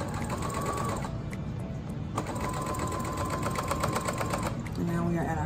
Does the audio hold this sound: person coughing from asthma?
no